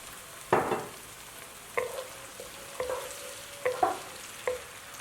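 Minced garlic, chili and soy sauce stir-fried in hot oil, with a hissing sizzle behind several distinct metallic spatula clanks against the wok, close and moderately loud, no speech.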